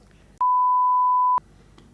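A single steady censor bleep tone, loud and continuous for about one second, cuts out speech during a brokers' roundtable discussion, with faint room sound before and after.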